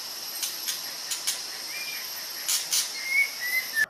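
White-rumped shama (murai batu), a tropical forest songbird, sings in short bright chirps and whistled phrases, fairly faint over a steady hiss, with bursts clustered near the start and toward the end.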